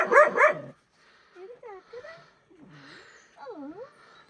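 A dog barks on command near a village pond, giving a few sharp close barks at the start followed by softer whimpers and yips.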